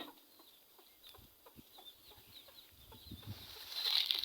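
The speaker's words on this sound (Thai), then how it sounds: "ไก่" Chickens clucking around a rural Thai house: scattered soft clucks and short calls at a distance, fairly faint against quiet outdoor background, with a louder burst near the end.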